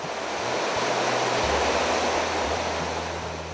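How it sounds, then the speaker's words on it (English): A small waterfall in an Alaskan forest pours in a steady, full rush of white water, close and continuous with no voices over it. "A bit further up, we discover a small waterfall."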